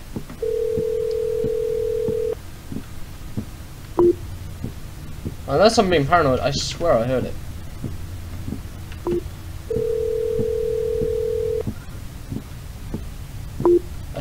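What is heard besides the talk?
telephone ringing tone while calling someone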